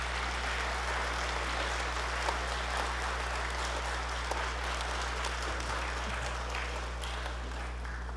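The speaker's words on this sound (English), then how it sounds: "Another round of applause for families and parents." Steady applause from the audience at a middle school and high school spring band concert fills the hall, sustained clapping at an even level throughout without letting up.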